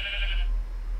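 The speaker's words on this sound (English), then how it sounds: "This is our lucky sheep right here." A Minecraft sheep bleats once in a VR game, a short, bright, nasal bleat heard close and clear, fading after about half a second.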